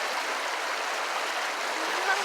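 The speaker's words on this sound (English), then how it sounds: "Just washing our faces in the water, in the creek, and standing in it." Cold spring-melt creek water flowing steadily around people standing in the stream, a continuous close broadband rush with no pauses.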